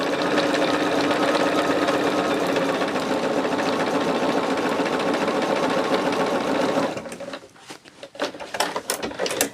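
A sewing machine works its way through a thick seam on a scrap-fabric mug rug, loud and close with a steady, rapid stitching drone that stops abruptly, leaving a few scattered clicks and handling knocks.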